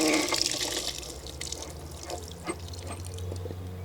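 Water trickling and splashing as it drains from an opened outdoor faucet on a 3/4 inch copper pipe, a steady close hiss with a few drips, no talking.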